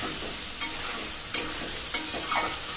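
A spoon scrapes and stirs spices cooked down with a little water for duck curry in a pan, three sharp clinks of utensil on metal over a low steady sizzle, close and without speech.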